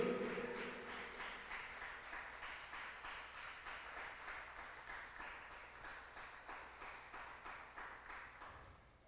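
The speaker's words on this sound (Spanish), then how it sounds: "Denle un aplauso al Señor Jesús" A church congregation applauds Jesus during a service, a faint, steady, rhythmic clapping from a distant crowd that slowly fades.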